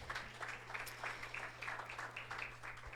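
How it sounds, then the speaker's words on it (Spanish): A church congregation claps their hands in a steady, fairly quick rhythm, sounding distant and muffled beneath a low hum. "Dale fuerte palmas al Señor Jesucristo."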